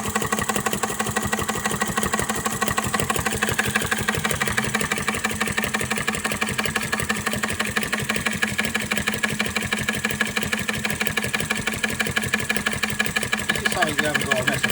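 A Retrol Flame Licker RE01 vacuum engine running slowly and steadily, a fast even mechanical chuffing and ticking that stays close and continuous, with someone talking over it.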